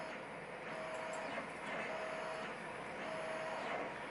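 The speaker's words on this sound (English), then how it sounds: "hopefully that 3D printer is not too noisy in the background" A 3D printer runs in the background while a Lockwood 334B45 padlock is being picked, giving a faint steady hum with a thin whine that recurs three times.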